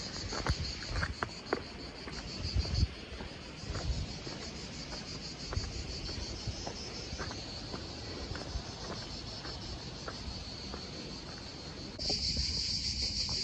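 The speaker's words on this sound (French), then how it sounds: "Là devant, les cigales à fond." Cicadas buzz loudly and steadily in hot, sunny weather on a mountain trail in Corsica, a dense continuous drone that swells louder near the end, with footsteps and light rustling beneath.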